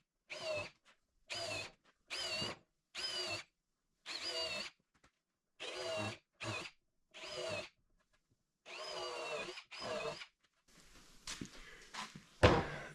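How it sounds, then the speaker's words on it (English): A screw gun drives screws into a wooden stair in a workshop, about a dozen short whirring bursts separated by brief pauses, close and clear, ending with a few knocks and clatters; no talking. "it's easier to get the screw gun in to screw it in"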